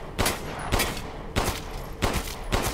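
Gunfire in the horror game Resident Evil Village, about five heavy, booming shots spaced roughly half a second apart, each loud and sharp with a short decaying tail.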